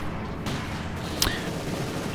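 Distant gunfire and cannon shots from the World War II strategy game Company of Heroes 2: a couple of faint, sharp cracks over a low rumbling battlefield backdrop.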